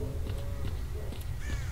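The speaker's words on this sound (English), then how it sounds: "Bird. Can I hunt birds in this game?" A crow caws in the S.T.A.L.K.E.R.: Shadow of Chernobyl video game, giving several harsh, rasping calls in quick succession over a low, steady ambient rumble, moderately close.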